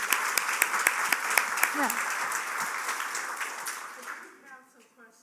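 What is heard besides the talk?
audience applause at a seminar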